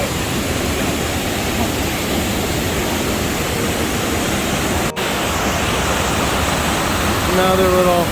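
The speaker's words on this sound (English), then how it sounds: "waterfall canyon" A canyon waterfall roars in a steady, loud, broadband rush that fills the whole scene, close by and unbroken, with faint voices in the background near the end.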